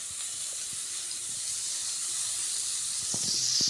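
Butter hits a preheated nonstick pan and hisses steadily as it starts to melt for homemade cow ghee. The bright, even sizzle grows slightly louder, with a few faint clicks underneath.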